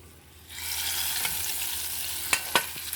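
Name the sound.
tempering poured into dal, sizzling and stirring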